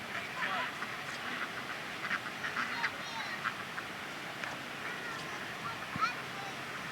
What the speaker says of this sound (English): Look, see the baby ducks, Chelsea?